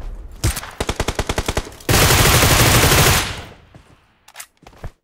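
Rapid automatic gunfire from PUBG Mobile, a burst of about a dozen evenly spaced close shots followed by a dense sustained roar of fire, then a few scattered single shots trailing off near the end.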